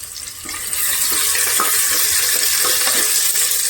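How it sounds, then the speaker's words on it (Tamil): Garlic, ginger and green chillies sauté in a pan with a loud, continuous sizzle of hot oil close by, with faint stirring scrapes underneath. "பூண்டு, அதுக்கப்புறமா இந்த இஞ்சி, பச்சை மிளகாயை முதல்ல சேர்க்குறேன். அது கொஞ்சம் லைட்டாக வதங்கட்டும்."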